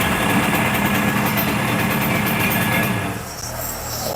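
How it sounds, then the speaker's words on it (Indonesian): A vintage motorcycle engine runs steadily at idle near a used-bike dealer's shop, a continuous mechanical drone that fades and drops off toward the end. "Kita cek suara mesinnya dulu ini."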